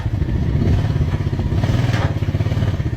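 A four-wheeler's engine runs steadily during loading, a loud, close, throbbing idle with a rapid pulsing beat and light clatter, and no talking.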